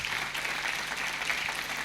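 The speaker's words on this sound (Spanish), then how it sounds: "Dele un aplauso al Señor." Applause from a church congregation at a worship service, a steady dense crowd clapping that holds at an even level throughout the short stretch, with no voices on top.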